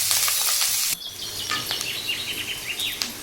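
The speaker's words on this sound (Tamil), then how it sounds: "இந்த பூண்டு நல்லா கோல்டன் ப்ரௌன் வர வரைக்கும் வதக்கிக்கணும்" Garlic and finely chopped green chillies sautéing in a pan until golden brown, a loud steady sizzle at first that drops after a second to a softer, crackling fry with scattered pops, no talking.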